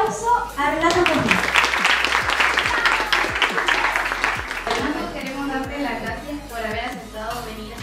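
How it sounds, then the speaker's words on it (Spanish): A school audience applauds a visiting guest, with sustained crowd clapping and scattered sharp individual claps filling the room while children's voices and talk carry over it before the applause thins out. "Démosle un gran aplauso a Renato Joffre."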